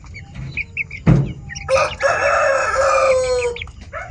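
Gold shamo rooster crowing once, loud and close, a long harmonic call lasting about a second and a half, preceded by a sharp thump and a few soft high chirps from chicks, with faint chick peeps afterward.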